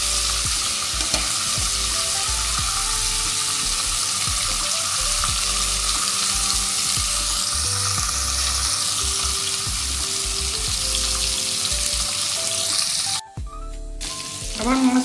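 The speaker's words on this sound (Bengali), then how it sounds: "খুব বেশি ভেজে দিলে মাছটা শক্ত হয়ে যায়, তাই একটুখানি ভাজা হলেই এটা আমি তুলে নেব" Fish pieces frying in oil for doi mach, a loud continuous sizzle close up with crackling spatter, briefly cut off near the end, no talking.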